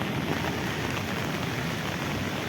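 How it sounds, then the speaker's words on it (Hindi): Heavy rain pours steadily on a nomadic Bakarwal family's makeshift shelter, a dense, loud, unbroken hiss with no pauses and no voices. "बारिश जोरों पर है।"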